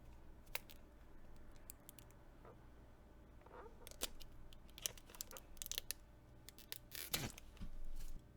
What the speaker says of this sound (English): let's peel that film off the MagSafe charger spot